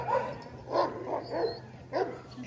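Sled dogs in an Alaskan dog yard near Denali bark excitedly in repeated overlapping yaps at a moderate distance, a steady chorus over background noise.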